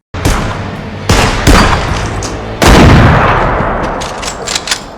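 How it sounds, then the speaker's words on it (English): Several loud, close gunshots boom one after another in The Last of Us season 1 episode 4, each leaving a long rumbling echo, the last blast the biggest and trailing off slowly. "not when there's gunfire going on all around you"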